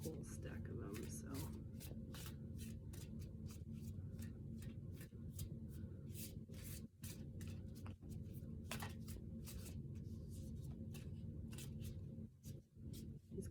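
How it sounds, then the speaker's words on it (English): Someone shuffles a deck of cards up close, producing quiet, rapid papery flicks and soft snaps in irregular bursts throughout, with a brief pause near the end. "These cards just shuffle so well."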